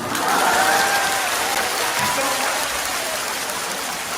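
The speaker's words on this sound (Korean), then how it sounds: "이대모 선배 박수가 나옵니다." An audience at a conservative political debate forum breaking into applause, a dense wash of clapping that swells early and then holds steady, with a few voices faintly audible under it.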